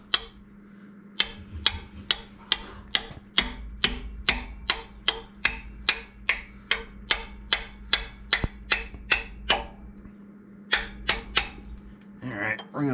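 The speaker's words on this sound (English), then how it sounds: "you just start hammering on it" Sharp metallic hammer blows strike in a steady rhythm on a clutch pilot bearing packed with bread, about twenty close hits with a brief pause near the end.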